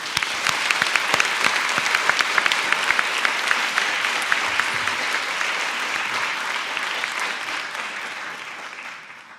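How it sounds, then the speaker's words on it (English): A lecture audience at a talk on Russian politics gives a sustained round of applause, dense even clapping with a few sharp individual claps standing out, slowly tapering toward the end. "Please join me in the round of applause for Ekaterina."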